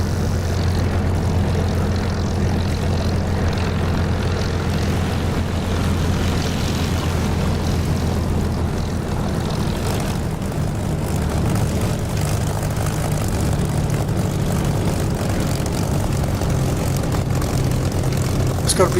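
A Spitfire in the DCS flight simulator holds a loud, steady propeller engine roar at takeoff, with a heavy low drone that barely changes and a voice faintly present underneath.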